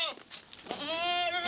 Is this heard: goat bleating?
yes